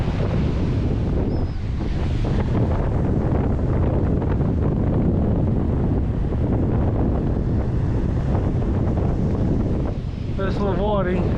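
Strong wind buffets the microphone at Maroubra Beach, a loud continuous roar with gusting rumble and surf wash underneath, steady the whole way through.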